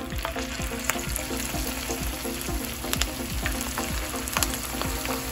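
Potato fingers deep frying in hot oil for crispy Tamil-style potato fingers, a steady close sizzle with crackling bubbles and occasional louder pops, no voices over it.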